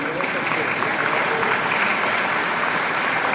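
A business audience at a UK–Malaysia trade event applauds steadily, with dense, even clapping from a large crowd that holds at a constant level throughout.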